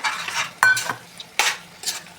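Prawns stirred into green masala in a pan, heard as a few close, distinct scraping strokes and a sharp clank of the spoon, with short gaps between the bursts.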